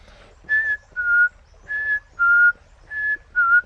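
A person whistles an imitation of the Cape robin-chat's call in three paired phrases, each pair a two-note seesaw, clear and close with short gaps between pairs.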